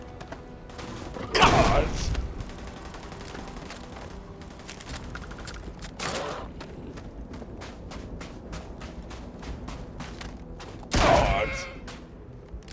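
Three heavy shotgun blasts go off in Starfield, spaced several seconds apart. Each is loud and booming over quieter game ambience, and a voice mutters briefly in between.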